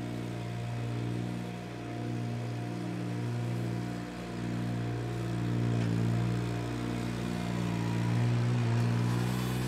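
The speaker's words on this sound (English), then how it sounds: "I'm raising the power rake up so that it just touches the surface" A power rake runs steadily over freshly seeded soil on a large lot, its small engine droning loud and continuous with slight dips and swells in pitch throughout.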